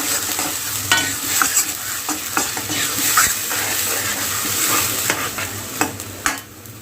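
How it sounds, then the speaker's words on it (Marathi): Ground spice paste frying in hot oil as it is stirred, giving a steady close sizzle broken by repeated spoon scrapes and taps against the pan. "इथे वाटण जे आहे ते आपण यामध्ये तेलात घातलेलं आहे चांगलं असं मिक्स करून घ्या"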